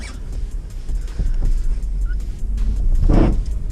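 An Acura TL with a six-speed manual gearbox drives along, giving a steady low engine and road rumble that holds throughout at moderate loudness with no talking.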